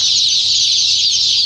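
A large hatchery flock of chicks and chickens fills the space with a loud, continuous mass of high peeping and clucking, close and unbroken, with no voices.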